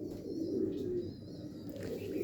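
Low, throaty cooing from ringed racing pigeons kept by a fancier rolls on steadily and close, with no talking over it.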